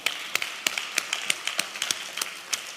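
Church congregation clapping at a Vision Sunday service, heard as a run of sharp, fairly evenly spaced claps close by with a little scattered applause around them and no voices.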